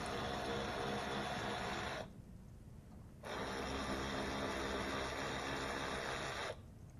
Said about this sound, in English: I'm gonna use my electric ratchet to make the process a little bit faster.